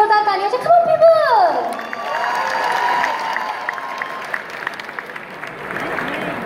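Concert crowd at a live show in Houston cheering and applauding, whoops and shouts rising over sustained clapping from a large audience, with an amplified voice over the noise at the start.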